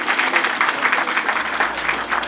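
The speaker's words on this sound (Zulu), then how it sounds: "simnike ihlombe elikhulu." A funeral crowd claps together in steady, sustained applause that fills the space from start to finish, loud and close.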